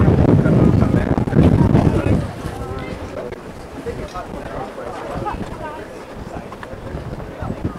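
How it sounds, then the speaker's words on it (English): Strong wind buffets the microphone outdoors at an antique flea market in Elkhorn, Wisconsin, a loud roaring rumble easing after a couple of seconds into steady gusty noise with faint background activity. "it's so windy out"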